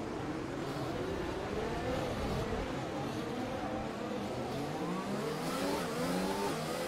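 Race car engines in the F1 2020 video game, Vietnam circuit in rain, droning steadily behind the safety car with gentle rising and falling revs and a constant rumble throughout.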